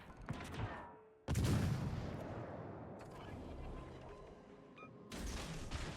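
Enemy warship guns fire in a World of Warships Legends tier 5 ranked naval battle. Two heavy booming salvos land a few seconds apart, each with a long rumbling tail over the steady background noise of the battle.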